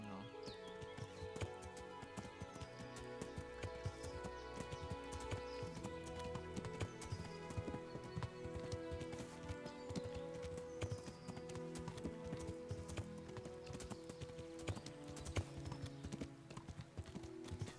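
Steady hoof clip-clop of a slow-walking horse in the medieval game Kingdom Come: Deliverance, continuous and even-paced over a bed of game ambience and music, with no talk.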